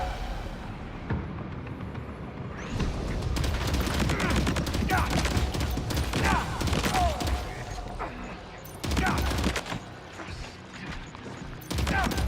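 Gunfire from headshots in the video game Death Stranding 2, heard as dense bursts of rapid shots with mechanical clatter under fairly loud game noise, and a voice talking over parts of it.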